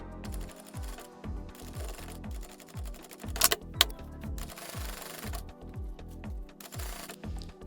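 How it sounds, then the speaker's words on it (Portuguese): A sewing machine stitches a seam on an oversized cosplay costume being taken in, running in a steady rapid mechanical rhythm close by, with brief pauses and a short sharper burst in the middle, no voices. "Então agora sim é só costurar."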